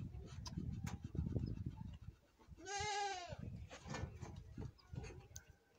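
A goat named Snowflake, a nanny with her young kid nearby, lets out a single clear wavering bleat at close range, set amid shuffling farmyard noise.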